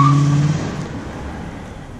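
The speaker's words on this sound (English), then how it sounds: "I had said that I was gonna do a burnout." A 2001 Cadillac DeVille revs up and spins its tires in a burnout, the engine tone loud at first and then dropping off into a lower, rougher roar.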